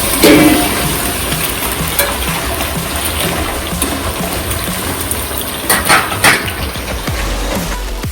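Capsicum and tomatoes sautéing in a pan for a Punjabi-style cashew curry, a steady close sizzle and frying hiss running throughout with a few louder bursts and stirring clatter.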